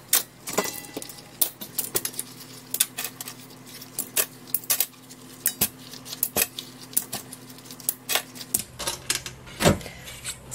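Cooked marsh clams being shelled by hand in a bowl, with a scatter of small clicking shell knocks and clatters at an uneven pace, close up and quiet, with no talk.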